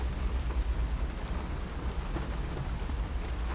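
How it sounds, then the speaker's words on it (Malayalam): Steady rain pours down in a broad, continuous hiss with low rumbling underneath, loud and unbroken throughout, with no voices present. "മഴ തന്നെയല്ലേ"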